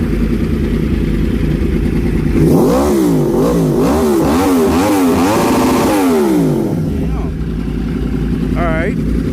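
A 2014 Yamaha R1 with a Toce exhaust idles, then is blipped through a rapid series of rising and falling revs before settling back to idle, loud and close, with brief talk around it.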